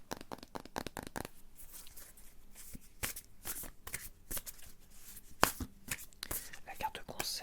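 Tarot cards are shuffled and drawn in a quiet room, giving crisp riffling bursts and sharp papery snaps, some faster, some isolated, close and soft, with quiet whispering between them.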